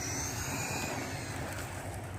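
A WLToys A959 RC car with modified B wheels runs at full speed, giving a steady, loud high-pitched motor whine with broadband rushing noise throughout, with no pauses and no voices.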